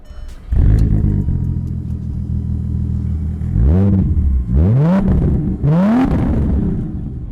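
A 500 hp Audi TT VR6 engine cranks, catches and settles into a low idle rumble, then gets revved up three times in rising, falling sweeps, loud and close.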